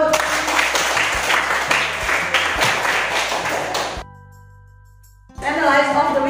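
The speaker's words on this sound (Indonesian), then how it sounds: "Tepuk tangan buat" A burst of loud applause from a crowd at a teaching practice assessment session in Indonesia, dense clapping that stops abruptly, followed by a quiet pause before noise resumes.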